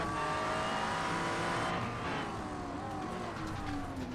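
GT3 race car heard onboard at Motegi in a sim racing game, its engine loud and close, climbing through the revs with rising tones, then lifting off as braking starts and the pitch drops.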